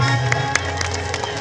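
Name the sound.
audience applause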